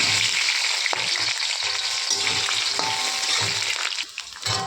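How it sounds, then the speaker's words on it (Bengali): Potatoes dropped into hot oil in a wok crackle and sizzle steadily and close, with a few sharp pops and stirring scrapes, the frying easing slightly near the end. "তেল গরম হয়ে গেছে, এখন আমি আলুটা ছেড়ে দিচ্ছি।"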